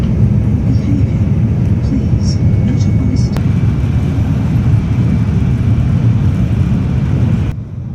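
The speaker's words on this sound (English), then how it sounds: "the train is speeding at nearly its top speed" Constant loud low roar of a Shinkansen bullet train cruising near its top speed of about 285 km/h between Tokyo and Osaka, a steady interior rumble that holds evenly before dropping off at the end.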